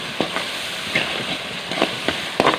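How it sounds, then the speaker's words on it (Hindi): Ground spices like coriander, cumin, carom, black pepper, salt and red chilli are stirred in a cooking pot over steady sizzling hiss, with soft scraping taps of the spoon recurring every half second or so. "इसको खूब मिक्स करेंगे।"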